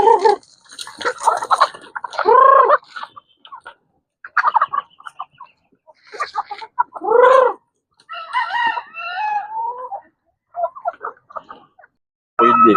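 Chickens and roosters, breeding hens including Black Ocelot and Rhode Island Red birds, cluck and crow in bursts across a farm setting, with a few loud close calls and gobble-like cries separated by short quiet gaps.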